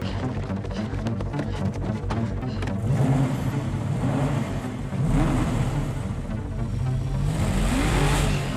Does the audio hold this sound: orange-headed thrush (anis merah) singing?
no